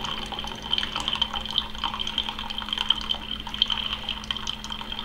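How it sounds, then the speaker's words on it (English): Keurig coffee maker brewing a cup, a steady close trickle and gurgle of hot water filling a mug with a faint mechanical hum beneath. "It's brewing a delicious cup of coffee."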